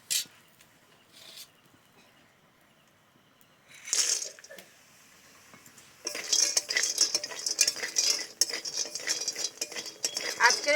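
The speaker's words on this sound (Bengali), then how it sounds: "এই তেলে একেবারে বড়িগুলোও ভেজে নেব।" Lentil dumplings (bori) go into hot oil left over from frying potatoes. A few quiet clinks and stirs come first, then a dense, steady crackle of frying that grows louder over the last few seconds.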